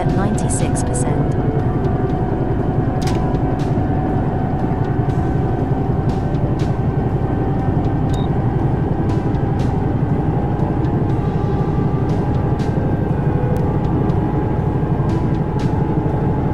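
Twin engines of a CowanSim 222B helicopter in the X-Plane 11 simulator spooling up, a steady dense rumbling whine with scattered faint clicks throughout.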